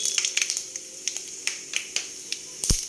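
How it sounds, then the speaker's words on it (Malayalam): Mustard seeds burst in hot oil in a pan as a jackfruit stir-fry is started, giving sharp, scattered pops and crackles of varying loudness over a quiet sizzle. "എണ്ണ ചൂടായി കടുക് ഇട്ട് കൊടുക്കാം."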